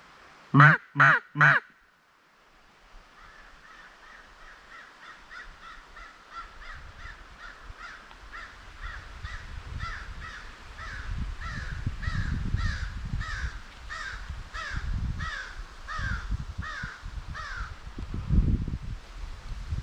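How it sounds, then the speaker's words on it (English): Crows cawing during a squirrel hunt in the woods: three loud, close caws, then a long rhythmic run of fainter repeated caws over rustling leaves and low outdoor rumble. "I was close to getting a crow there, but they didn't come in"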